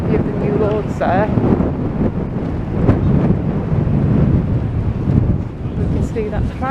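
Strong wind buffets the microphone on Blackpool promenade, a loud continuous roar with gusty surges, while someone talks over it.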